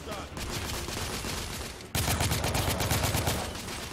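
Gunfire from The Order 1886 shooter game, a steady stream of rapid shots that jumps abruptly louder halfway through, dense and continuous with a voice faintly mixed in.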